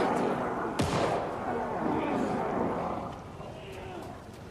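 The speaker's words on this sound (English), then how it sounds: "I heard gunshots." Gunfire in the video game Alan Wake 2: one sharp, loud shot cracks out near the start over a dense, rumbling game ambience that carries on steadily afterward.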